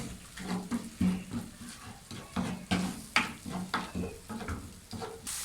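Tomato and spice masala fries in a pan, with a soft sizzle under repeated close stirring and scraping strokes in a steady rhythm, moderately quiet throughout.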